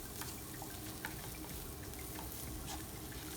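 Ground beef with taco seasoning sautés in a pan, a quiet, continuous sizzle with light stirring clinks and scrapes, faint and close.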